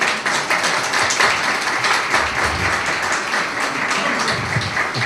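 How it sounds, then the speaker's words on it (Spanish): Sustained applause from an audience at an association conference session in Orihuela, a dense steady wash of many hands clapping that holds throughout without a break. "un fuerte aplauso para ellos"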